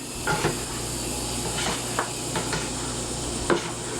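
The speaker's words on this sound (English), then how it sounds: "Mix it well. We've got all these beautiful veggies in there." Spaghetti casserole with mushrooms, spinach and other vegetables being stirred and tossed with two spoons, giving a few soft scraping, clattering strokes over a steady sizzling hiss from the pan.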